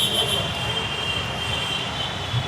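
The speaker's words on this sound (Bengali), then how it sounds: "সো এই হচ্ছে আমাদের মেট্রো রেলের অবস্থা" Dhaka metro rail train giving off a steady, fairly loud rolling rumble and broadband rush with no clear breaks, heard close by with no one talking.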